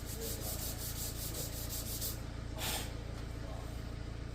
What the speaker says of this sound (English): Sand it down.